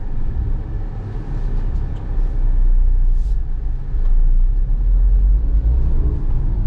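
A Tata Altroz XE hums and rumbles steadily from inside the cabin while being driven, a constant low engine and road drone without pause and no talking over it.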